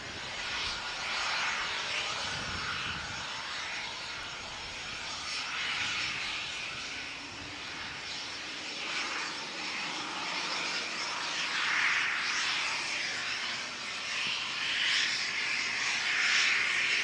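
A Qantas jet airliner at the Canterbury aero area on a windy day gives a steady, moderately distant engine roar with broad hiss and wind-like rumble, holding fairly even for the whole stretch with no talk.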